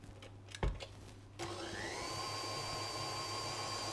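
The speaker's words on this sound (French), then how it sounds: "On va y rajouter les œufs entiers et on va les battre assez longuement pour obtenir du volume" Electric stand mixer whipping whole eggs for a raspberry and lime bavarois: after a couple of close clunks, a steady whirring motor hum starts and runs on evenly at moderate volume with no talk.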